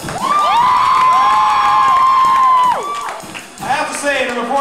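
An audience cheers loudly for a contestant in a funky mustache contest, with a sustained crowd whoop and shouting that fades after a few seconds into scattered voices and clapping.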